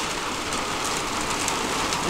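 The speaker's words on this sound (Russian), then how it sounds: "пошли у нас дожди" A heavy rain shower pours down in Sydney, making a dense, loud, unbroken hiss of rain on surfaces close by with no talking.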